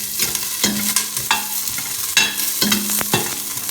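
Onions sizzle in a pan as a spoon scrapes and stirs them every second or so, close and clear with no talking.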